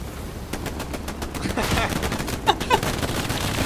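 Rapid bursts of gunfire from soldiers in the World War II shooter Hell Let Loose, loud overlapping automatic and rifle fire crackling continuously with a couple of sharper nearby shots standing out.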